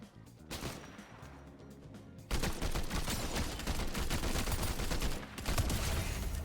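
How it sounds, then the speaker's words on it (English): Gunfire in Fortnite: a few scattered shots, then a dense, loud stretch of rapid automatic fire that keeps rattling close by for several seconds with only a brief dip. "they're shooting at me"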